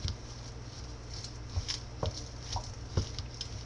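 Spoon working through raw Hungarian meat loaf mixture in a bowl, giving soft, quiet wet squishing and patting with a few sharper scrapes at irregular intervals, close and alone.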